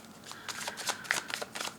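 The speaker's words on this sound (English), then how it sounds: "Shuffling for Sagittarius." Tarot cards being shuffled by hand, a soft rapid riffling rustle running continuously and close, with no talk over it.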